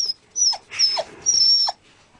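A dog gives a series of high, thin whimpers and whines in three or four drawn-out bursts separated by short pauses, close and fairly loud, with no speech.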